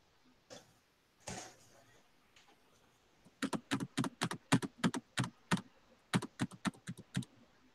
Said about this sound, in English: Somebody was banging on the keyboard.